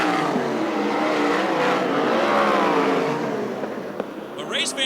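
USAC/CRA sprint cars race at Hanford, California, in 2004, loud roaring engines sweeping past under an announcer's commentary.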